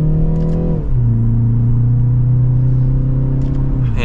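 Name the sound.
BMW 330i M Sport accelerating from second gear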